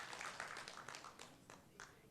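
A lecture audience claps briefly during a Buddhist talk, soft and distant, a thin scattering of hands that fades within a couple of seconds.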